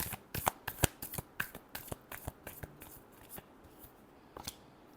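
Tarot cards are shuffled by hand in a steady series of crisp, close riffles and snaps, loudest early on and thinning out toward the end, with no voices over them.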